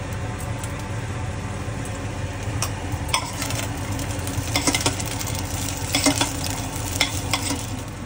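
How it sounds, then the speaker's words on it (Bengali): Green beans fry in a pan, keeping up a steady hiss. Spatula or spoon strokes scrape and clatter through it at irregular intervals, close and fairly loud. "তারপরে বিনসগুলো দিচ্ছি, কারণ বিনসগুলো একটু ভেজে নেব"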